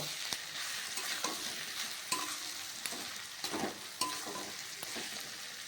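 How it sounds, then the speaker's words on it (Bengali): Eggs fry in a pan and are stirred, a soft, even sizzle punctuated by irregular utensil clicks and scrapes against the pan, fairly quiet and with no talking. "আমি এবার ডিমগুলো দিয়ে দেব দিয়ে দিয়ে ভালো করে নাড়াচাড়া করব"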